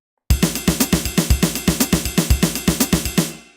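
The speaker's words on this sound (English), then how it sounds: "we'll play between the ride and the snare" A steady single-stroke roll alternating between a ride cymbal and a snare drum, evenly spaced hits, close and loud, ending with a ringing decay.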